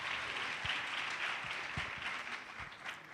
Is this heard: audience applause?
yes